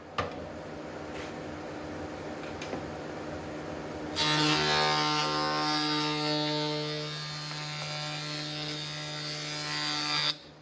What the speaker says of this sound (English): you'll see me setting it up on the drill press